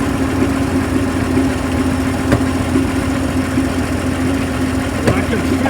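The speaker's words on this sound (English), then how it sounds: "sounds like it's not firing in one cylinder. I can feel it's firing 5 cylinders." The engine of an International KS4 WW2 truck idles roughly while misfiring on one cylinder, a steady low rumble with an uneven pulse and a couple of sharp clicks, heard up close with talk over it.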